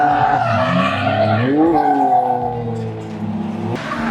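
Drift cars heading out onto the track at a drift event, tires skidding and squealing loudly with rising engine revs, one close pass sweeping up in pitch before the noise settles into a steady drone.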